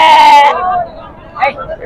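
A goat gives one loud, wavering bleat close by at a busy livestock market, followed by a shorter, fainter call.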